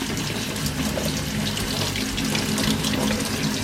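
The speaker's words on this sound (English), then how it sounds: "I've washed the cherries" Tap water runs in a steady, loud, continuous stream into a kitchen sink while cherries are washed, with no break and no voices.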